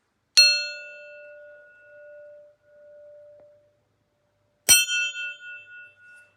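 A small hand-forged steel wedge, fresh from the forge and not yet annealed, is struck twice, each hit giving a bright metallic ring with a long sustained tone; the strikes are several seconds apart, with no voices.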